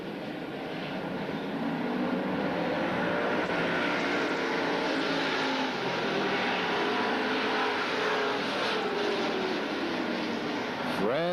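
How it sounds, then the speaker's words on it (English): Vintage NASCAR pro stock race cars racing at Ascot Park in 1989, a steady engine drone of the pack heard from a distance with one car's pass rising at the end. "Zaffino outpowers Wilson and Chris Laney"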